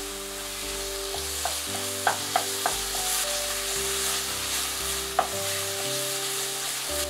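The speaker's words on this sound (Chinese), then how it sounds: "生姜、洋葱和大蒜泥，搅拌一分钟，然后加2汤匙味噌酱、1茶匙辣椒酱" Ginger, onion and garlic paste with miso and chili paste sizzles steadily in a pan for a ramen broth, while a few sharp utensil clicks from stirring stand out over a constant background hum.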